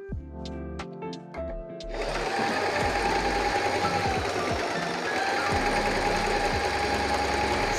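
A new Butterfly sewing machine runs steadily after a few soft clicks and handling knocks at the start, its motor and needle giving a loud, continuous whirring rattle that holds throughout without pause.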